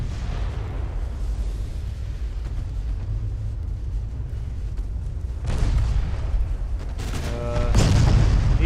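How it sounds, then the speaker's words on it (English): Torpedo detonation against a warship in the naval battle game Ultimate Admiral: Dreadnoughts, heavy booms rising out of a constant low rumble of battle, with a louder blast near the end over continuous deep noise. "Oh, torpedo detonation"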